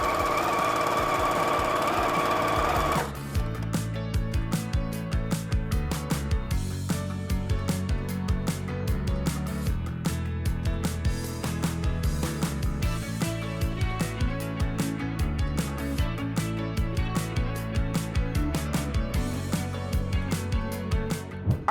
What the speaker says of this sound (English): Then I'm going to sew a box all around the perimeter of the square using my 1/4 inch seam allowance.